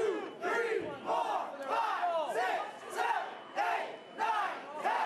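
Wrestling crowd at an indie show chanting a count in unison, rising and falling in regular shouted waves, loud and fairly near, with no commentary over it.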